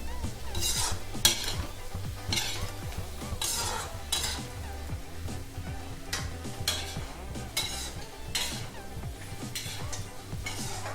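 Potato and capsicum (aloo shimla mirch) cooking in a pan on high flame, with a spoon repeatedly scraping and stirring in a steady rhythm over a soft background sizzle, close and clear, no talking.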